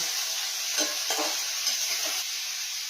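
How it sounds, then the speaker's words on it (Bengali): Fish frying in hot oil gives a steady bright sizzle close by, with a few soft stirring scrapes against the pan over a few seconds and no voices. "আমি কিন্তু মাছটা তেলের মধ্যে দিয়ে দিলাম। এবার একটু নাড়াচাড়া করে"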